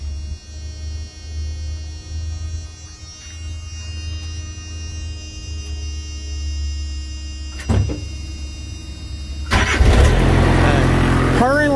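A reefer unit's diesel engine starts up after priming, its low steady rumble building into a louder, rougher run near the end, with brief clunks and a faint voice in the background.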